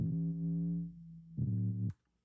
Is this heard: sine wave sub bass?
yes